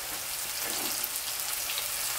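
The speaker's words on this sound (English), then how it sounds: "Now I'm going to go ahead and add that sausage to it, and that's the big jumbo Italian sausage" Jumbo Italian sausage fries in oil in a pot, giving a loud, steady hiss and crackle that sizzles without a break from start to finish.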